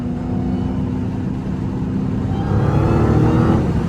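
A Dodge Hellcat accelerating hard in third gear on a city street at night, a steady loud engine drone that builds in strength toward the end, with no talk over it.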